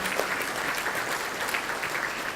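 Steady applause fills a hall at South Korea's 71st National Assembly opening anniversary ceremony, an even wash of many hands clapping at moderate volume with no talk over it.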